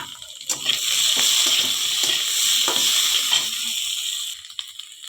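Potatoes fry in a pan with salt and turmeric, giving a steady bright sizzle with intermittent clicks and stirring scrapes, close and continuous before easing slightly near the end.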